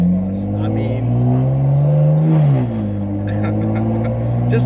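The S55 engine of a tuned 1000 hp BMW M2C revs hard from inside the car, a loud droning tone rising and falling as it accelerates, with someone talking over it.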